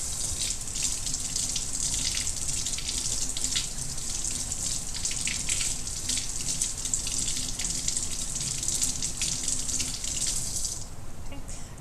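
Paintbrushes rinsed under a running sink tap after oil painting, with a steady, close hiss of flowing water splashing throughout that cuts off just before the end.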